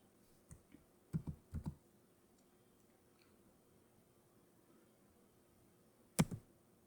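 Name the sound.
typing Vim commands on a computer keyboard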